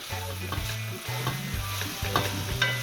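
Saltfish sizzles in a hot pan as a spoon stirs it, scraping and clattering in a quick, repeated rhythm over a steady frying hiss, close and fairly loud.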